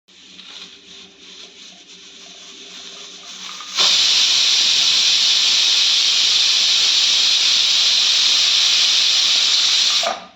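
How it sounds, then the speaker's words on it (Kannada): Pressure cooker on a gas stove boiling cluster beans: quiet low simmering, then a sudden loud, steady whistling hiss of steam that runs for about six seconds before cutting off. "1 ವಿಷಲ್ ಆಗೋ ತನಕನೂ ಇದನ್ನು ಕುಕ್ಕರಲ್ಲಿ ಬಾಯ್ಲ್ ಮಾಡಬೇಕು"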